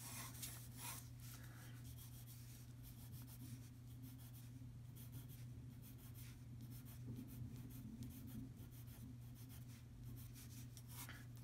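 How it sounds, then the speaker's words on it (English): Gray pencil sketching an underdrawing on paper for an acrylic squeeze abstract painting, a soft continuous scratching and rubbing close by over a steady low hum, no speech. "I'm just sketching with my gray pencil here."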